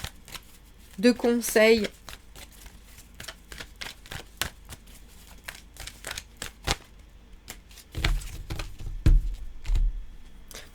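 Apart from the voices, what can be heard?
tarot cards being shuffled and drawn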